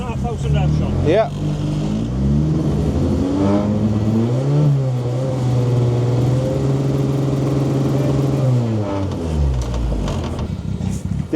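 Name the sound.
Nissan Micra rally car engine revving for noise test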